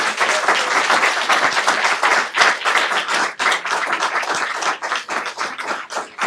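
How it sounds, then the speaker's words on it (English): Audience applause fills a school board meeting for a district Teacher of the Year, with dense, steady clapping and a few brief dips. "So let's give him a big round of applause."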